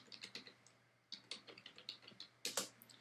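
Rapid clicking keystrokes on a non-Mac computer keyboard, typed in two bursts separated by a brief pause, close and clear over a low steady hum.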